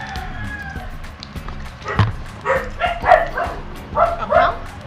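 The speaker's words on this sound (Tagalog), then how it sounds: "Mga Siberian Husky namin." Siberian Husky dogs bark and yip in a cluster of sharp, fairly close calls over a busy, noisy background, with some whimpering and movement mixed in.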